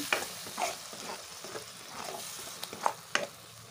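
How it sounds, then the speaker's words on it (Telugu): Tomato and onion paste frying in oil for a Kerala-style prawn roast, with soft sizzling and a few sharp spoon scrapes and clinks against the pan, close by and with no talking. "టమాటా పేస్ట్ ఇందులో యాడ్ చేసుకొని మనం ఆయిల్లో అయితే దీన్ని కూడా మంచిగా మరగనివ్వాలి"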